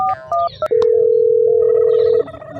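Telephone line tones in a Gujarati comedy skit: a few short keypad beeps, then one loud, steady tone held for about a second and a half before it cuts off, leaving a quieter background.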